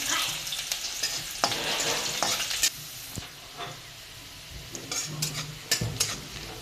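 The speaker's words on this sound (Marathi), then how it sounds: "कांदा चांगला लाल होऊन घेऊया." A single onion fries in a pan until reddish for a spicy brinjal dish, with a steady close sizzle and repeated sharp stirring scrapes of a spoon against the pan.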